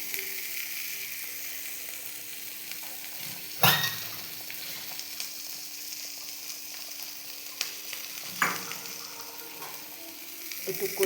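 Curry sizzling loudly in a pan as water is added, a sharp burst of hissing and spattering near the start, then continued steady frying with a few stirring scrapes and another flare later, no voices.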